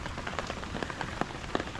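Raindrops patter on water at an island resort in Kerala, a soft, steady sprinkle of many small impacts with a few sharper drops, quiet and close.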